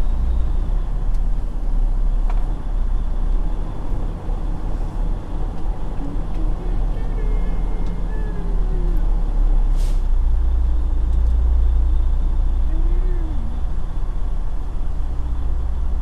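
A semi truck pulls out of a tight truck stop, its diesel engine giving a loud, steady low rumble close by for the whole stretch, with a brief hiss partway through.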